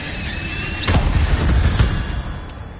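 A Hogwarts Legacy Incendio fire spell bursts out with a sharp whooshing flare, followed by a second crackling blast, set against a constant hiss of game ambience.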